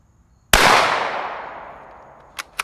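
A single unsuppressed shot from a Savage 17 HMR varmint rifle cracks sharply and loudly, followed by a long, fading echo rolling across open ground, then two faint, brief clicks near the end.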